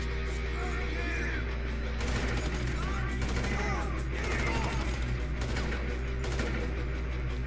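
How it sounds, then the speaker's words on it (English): Rapid gunfire rattles in Grand Theft Auto V Online, with dense bursts of shots packed together over a steady low engine-like drone, fairly quiet overall. "Just keep shooting."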